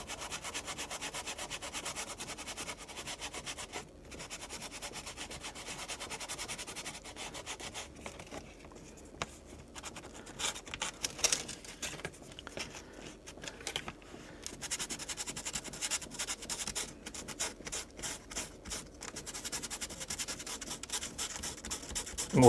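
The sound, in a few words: sanding with 220 grit sandpaper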